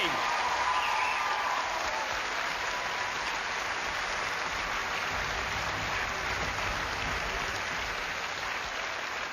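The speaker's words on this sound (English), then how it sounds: "Give them all a round of applause as they leave to join our team." A live crowd at an evening investigation event applauds continuously, a soft, even wash of many hands clapping that stays level throughout.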